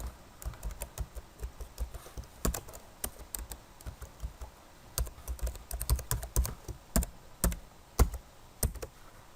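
A computer keyboard clatters with irregular bursts of quick, crisp key taps while a macro name is typed, close and moderately loud, with short pauses between runs and no talking.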